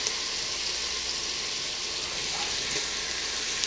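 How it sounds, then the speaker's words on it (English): Maine lobster and Jonah crab claws fry in a pan with garlic, a steady, close, even hiss of sizzling oil that holds without a break. "we're going to cook this up for just a few minutes, just to get them nice and golden brown"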